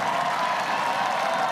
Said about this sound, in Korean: 5대4로 역전승을 거둔 우리 대표팀은 두 손을 높이 들고 환호했습니다